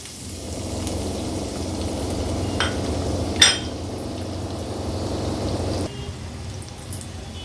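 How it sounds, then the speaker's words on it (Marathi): Garlic cloves and onion dropped into three spoons of hot oil in a pan, a steady close sizzle with a few clinks of a utensil, easing a little toward the end. "पॅनमध्ये तीन स्पून आपण तेल गरम करून घेतलं आहे आता फोडणीला ह्या लसणाच्या पाकळ्या आणि कांदा घालूया"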